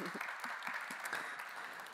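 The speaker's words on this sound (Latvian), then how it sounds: "Aplausi." Audience applause after the final presentation is announced at a Storent investor club event, steady broadband clapping from a crowd throughout, a few voices briefly audible underneath.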